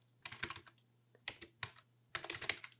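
Short clusters of crisp keystrokes on a computer keyboard as a Linux terminal command is entered, three quick bursts separated by pauses, close and clear over a faint low hum, no talking.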